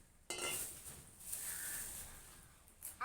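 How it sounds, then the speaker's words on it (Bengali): Plates being set out and arranged in a home kitchen, with a clatter of dishes starting sharply and continuing as a steady clinking jumble, close and moderately loud, with no talking. "আগে আমি থালাগুলোকে সাজিয়ে নিই"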